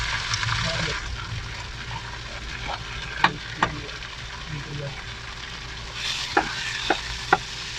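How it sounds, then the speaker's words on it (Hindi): Fresh minced keema frying with onions in a pan, cooked in a small room: a steady sizzle with scraping stir strokes and a few sharp clicks of the utensil against the pan, broken by brief speech. "कीमों के बाद थोड़ी देर करेंगे फ्राई प्याजों के अंदर"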